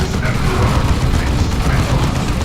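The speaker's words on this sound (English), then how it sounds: "Launch a grenade." Grenade blast in Dawn of War 2 Retribution, a sustained rumbling boom filling the whole moment with dense low-end roar and battlefield clutter, loud and continuous rather than a single sharp crack.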